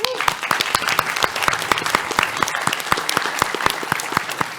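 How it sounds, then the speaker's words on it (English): A room full of people at a live PAX West 2023 panel applauding, steady sustained clapping with sharp individual claps standing out close by, continuing throughout. "Round of applause."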